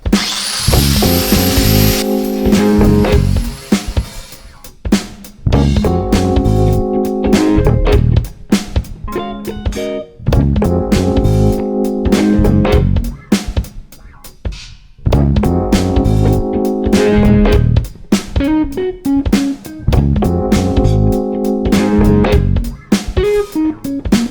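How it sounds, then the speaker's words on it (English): A 4.5-inch angle grinder with a cutting wheel cuts through a rusty steel panel on a Triumph TR4, close and loud, in repeated grinding passes of a few seconds with brief pauses between them. "just take the cutting wheel to it and cut it up"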